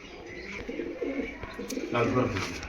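Pigeons of the Andhra breed coo softly in a loft, with low repeated coos and faint chirps close by.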